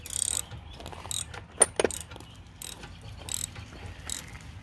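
Ratchet with an extension cranking a bolt while fitting a belt on a tiller, giving short bursts of clicking pawl strokes between pauses, close by and without talk.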